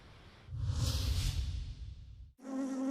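A huge swarm of honeybees, millions loose after their hives fell from a truck in Canada, makes a loud, dense whirring buzz that holds steady for about two seconds before cutting off abruptly.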